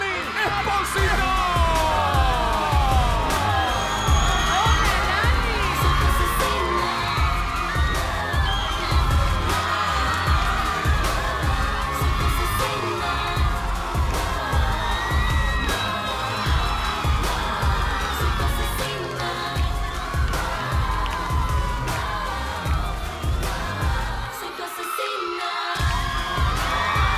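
Loud studio crowd on a television entertainment show cheering, whooping and clapping continuously to welcome a singer, with shrill yells and a host's voice heard over the roar throughout.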